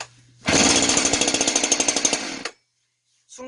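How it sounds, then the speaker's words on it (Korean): A chainsaw's small engine is started with a sharp pull of the recoil starter; it catches and runs loud and rough for about two seconds before cutting out, followed by a brief scrape. "순간적으로 손목 스냅을 이용해서 훅 당기면 시동이 걸려요"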